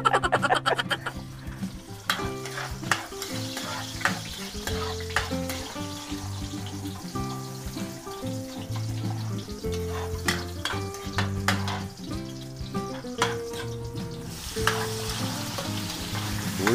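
Food frying and being stirred in a pan for Filipino adobo, close crackling sizzle with repeated utensil scrapes and clinks against the pot in an uneven rhythm.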